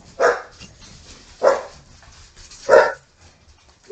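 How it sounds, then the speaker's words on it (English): A dog barks three times at a steady, unhurried pace, each bark clear and close, with quiet pauses between them. "what you barking for? Nothing. Just barking for nothing."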